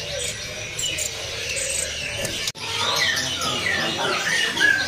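Anis kembang trotol birds at a bird-selling kiosk, with repeated sharp chirps and whistled tweets rising over background chatter and market noise, a sudden brief thump midway.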